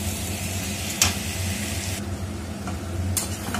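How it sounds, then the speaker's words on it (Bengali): Chicken kosha with tomato puree sizzles steadily in a frying pan, with a couple of brief scraping stirs cutting through the constant frying hiss. "টমেটো পিউরিটা দিয়ে দেব। দিয়ে একটু ভালোভাবে নাড়িয়ে"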